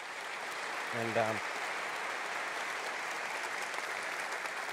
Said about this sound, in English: I'd really like to give them a round of applause